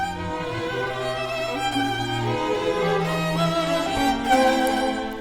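A string quartet plays an Alban Berg theme, with sustained low lines over busy, scrambling motives in the background. The texture is dense and continuous, recorded close with no talking.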